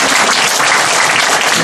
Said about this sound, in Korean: 우리 모두 힘차게 박수 한번